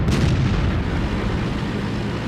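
A single heavy tank cannon shot from a T29 in a video game, one loud booming blast with a long rumbling tail and no voices.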